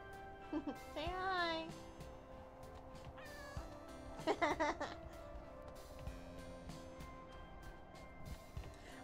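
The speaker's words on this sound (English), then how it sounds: "I have to move my cat." A house cat meowing up close, a few drawn-out rising and falling meows early on and a stuttering cluster of cries a few seconds later, over quiet game music.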